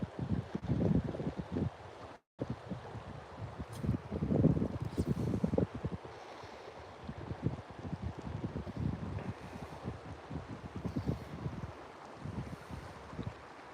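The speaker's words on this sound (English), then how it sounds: "This wind is not doing me any favors." Steady outdoor wind buffets the microphone during a fly fishing outing, a broad rumbling roar that swells and gusts throughout, with a brief dropout near the start and faint rushing water beneath.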